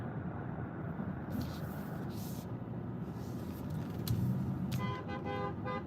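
Bad road traffic heard faintly, with a low steady rumble of cars and several short car horn toots near the end, one giving a quick series of honks.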